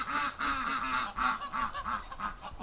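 A flock of geese on a frozen winter pond honking in a steady run of repeated calls, fairly close and loud, with no one speaking.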